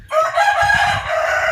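A farm rooster gives one loud, clear crow close by, its strained call held for over a second against low background noise.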